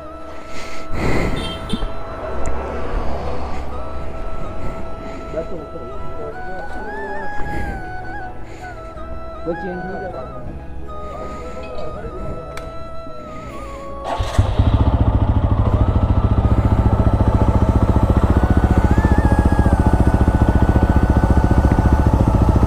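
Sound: noisy loose motorcycle chain

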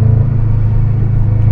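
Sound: 2005 Subaru Impreza WRX STI engine while cornering

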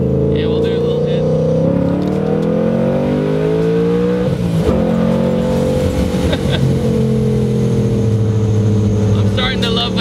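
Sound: Mustang with Paxton supercharger revving on E85

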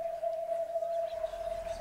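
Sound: parrot-like bird call in the video game Hello Neighbor

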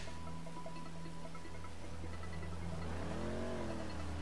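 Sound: powerful car engine revving in video game Grand Theft Auto V

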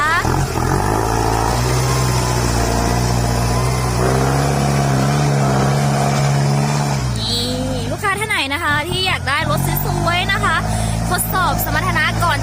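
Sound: Kubota M7040 tractor engine running

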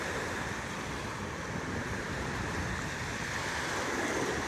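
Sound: ocean waves at Seaside Heights beach

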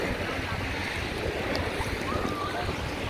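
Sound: sea waves

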